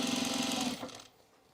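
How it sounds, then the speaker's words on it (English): A sewing machine stitching a double row along the edge of overalls runs with a steady, close, humming whir for under a second, then stops, leaving a quiet room. "I'm going to do a double row of stitching."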